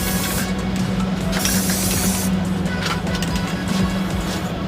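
A spray can hisses continuously while a light, even coat of paint goes onto car mag wheels, a steady loud aerosol spray held without pauses throughout.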